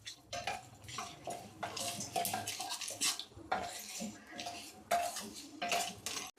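Cashews frying in oil in a pan for rava upma, stirred with a metal spoon that clinks and scrapes in irregular bursts over a soft sizzle, close up with no speech.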